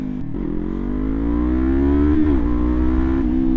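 An R3 motorcycle engine revs hard at full throttle, its pitch climbing steadily and holding a loud, close, sustained roar with a slight dip midway.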